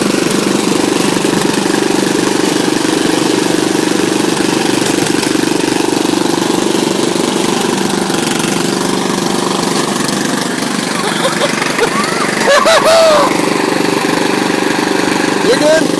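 A riding lawn mower engine runs steadily at a mid-pitched drone, close and loud, with a brief rise near the end while someone speaks over it at times.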